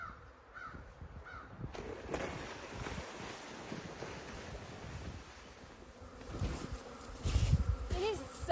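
Honey bees buzzing outdoors on a sunny winter day, in a steady, dense drone nearby, with a few louder rumbles toward the end.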